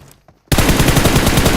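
Dense automatic gunfire in the PUBG video game erupts suddenly after a quiet moment, a loud rapid rattling volley of shots that continues without pause to the end.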